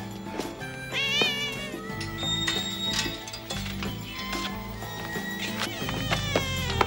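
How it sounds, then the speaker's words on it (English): A cat meows repeatedly, several clear, drawn-out cries heard over a background of music and room sounds, fairly close and prominent. "Do you know whose cat this is?"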